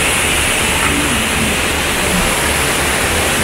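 A dense, steady wash of falling water fills the air at Bulawan Falls in Dinalungan, Aurora, a loud, unchanging hiss and roar heard up close with no voices.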